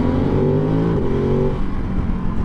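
A Ducati 996 motorcycle engine roars close and loud on a road trip toward Saint-Tropez, its pitch rising under throttle before settling into a lower, steady growl.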